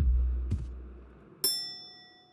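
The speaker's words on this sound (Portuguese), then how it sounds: "eu toco a campainha" A service bell at a cinema counter in a video game, struck once with a bright ringing ding that decays slowly, preceded by a softer dull knock and a low rumble.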